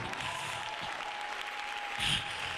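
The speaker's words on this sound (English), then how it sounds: "Give him a mighty hand clap if you can" Congregation clapping hands at a church service, a faint, distant wash of steady clapping that swells briefly near the end.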